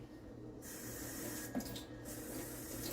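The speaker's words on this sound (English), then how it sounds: "I'm going to run some water like I said" Tap water runs from a faucet into a sink during a sanding and buffing job, a steady close rush of flowing water with a small knock partway through.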